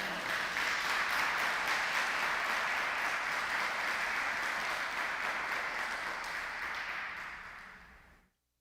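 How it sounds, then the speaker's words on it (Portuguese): Steady applause from a church congregation, dense and continuous, holding at full volume before cutting off abruptly into silence. "Dê uma salva de palmas para Ele."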